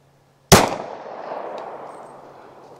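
A Glock 22 pistol chambered in .40 S&W with an extra inch of barrel fires a single sharp, loud shot into ballistic gel, the crack followed by a long decaying echo.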